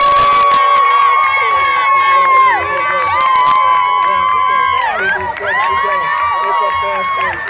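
Crowd cheering, shouting and clapping at a children's race, a loud continuous din of voices with a whistle-like tone running through it, close and steady throughout.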